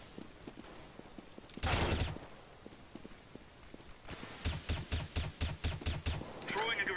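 Gunfire in a first-person shooter game: a single loud burst, then a rapid string of about a dozen evenly spaced shots, with light clicking footsteps in between and a player's voice in the background.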